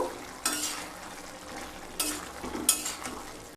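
A spoon scrapes and stirs through neem leaf and eggplant curry in a pan, a few distinct strokes over a soft, steady sizzle, close and moderately quiet.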